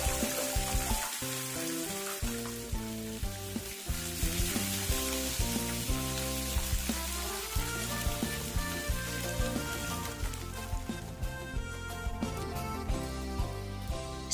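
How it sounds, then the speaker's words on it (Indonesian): Anchovies fry in hot oil in a wok, giving a steady crackling sizzle with scattered sharp pops throughout. "Setelah minyak panas, masukkan ikan teri dan goreng ikan teri sampai berwarna kecoklatan."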